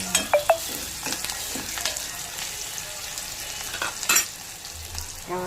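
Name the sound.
vegetables and onion frying with masala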